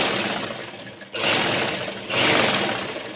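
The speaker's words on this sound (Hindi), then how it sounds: "उस आइडिया पे हम यहाँ सिलाई लगाएंगे" A sewing machine stitches a seam on a salwar, its whirring running in two steady, fairly loud bursts with a brief pause between them.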